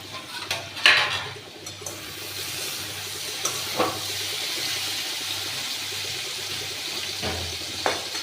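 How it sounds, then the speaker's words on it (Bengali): A pan lid is lifted off a low-gas pan of potatoes cooking for Bengali aloo posto, giving one short metallic clatter near the start, followed by a steady soft hiss of steam and faint kitchen clinks. "দেখুন, আমি ঢাকাটা খুলছি।"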